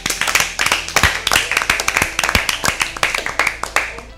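A quiz show audience claps for a team in a Bible quiz, dense rapid hand claps filling the room nearby, with a faint voice underneath.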